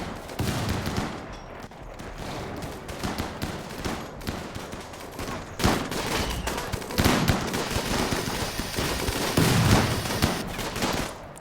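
Rapid gunfire fills the fight against raiders in RimWorld, dense overlapping bursts and volleys crackling almost without pause, loud and continuous.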